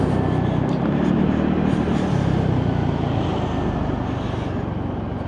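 A lorry pulling a 30-foot trailer passes in traffic with a loud, continuous low engine rumble and road roar that holds steady throughout, heard from nearby.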